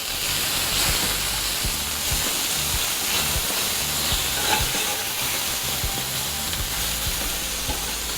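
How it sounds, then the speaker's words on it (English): Chicken pieces browning in a pan for chicken marsala, a steady loud hissing sizzle with faint rhythmic knocks underneath, no talking. "the idea here is to get definitely some color on these chickens"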